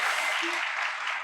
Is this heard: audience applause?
yes